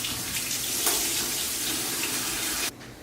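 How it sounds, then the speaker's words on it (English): A steady stream of running water splashes continuously for nearly three seconds, then cuts off abruptly, leaving quiet room tone. "Pour the water in a spiral."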